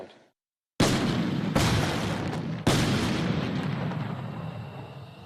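Above-ground bomb detonation: a sudden loud blast after a moment of quiet, followed by two more heavy booming impacts and a long rumbling roar that fills the rest of the sound, with no voices.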